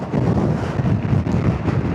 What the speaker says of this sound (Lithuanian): Oi, koks vėjukas. Net neįtariau, kad toks vėjas šiandien.